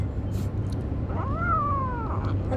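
A single drawn-out meow from a cat rises and falls over a low background hum, close and clear, with no talking.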